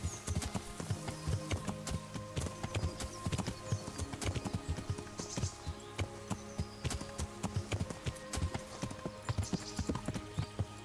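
Rapid rhythmic hoofbeats of a galloping horse in the video game Kingdom Come: Deliverance, steady and fairly close, with a brief whinny-like note and no talking.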